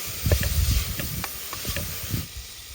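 Beef with green gram frying in a pan, a steady broadband sizzle with scattered pops and crackles close up, no voices.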